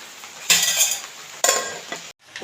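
Beetroot stir-fry is stirred in a clay pot with two short bursts of scraping and rustling over a soft background sizzle, then a brief drop to quiet.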